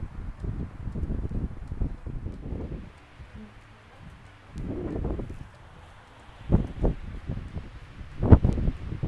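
Gusty wind blows across open countryside in the USA, buffeting the microphone in rough, intermittent bursts while someone talks between them.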